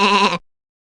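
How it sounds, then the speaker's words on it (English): A sheep gives a single short, loud bleat up close, cut off sharply after about half a second, followed by silence. "This is sheep, a fluffy animal that gives us wool."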